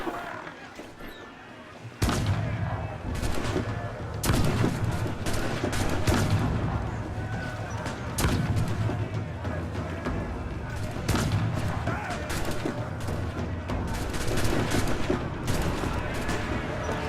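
Ship cannons boom repeatedly through a naval battle in Assassin's Creed IV, with dense overlapping blasts and rumbling fire from about two seconds onward over a busy game soundscape.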